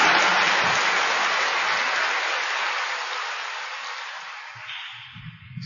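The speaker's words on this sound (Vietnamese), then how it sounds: "cho tràng pháo tay chào đón cha quản hạt chúng ta" Applause from a church congregation welcoming a deanery dean, a broad smooth wash of clapping that starts full and gradually tapers off, with faint low murmurs creeping in at the close.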